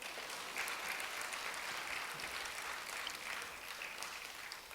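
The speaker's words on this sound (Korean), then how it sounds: "칠흑 같은 어둠 속에서 빛이 되어주는 7교회를 위해서 우리 박수 부탁드립니다" Audience in a church gives a steady round of applause for a choir after a special song; the broad clapping wash holds evenly for about five seconds at a moderate distance, with no talking over it.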